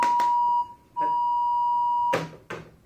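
A steady electronic tone beeps in repeated long pulses, broken by sharp clicks and crackles as a phone line cuts off.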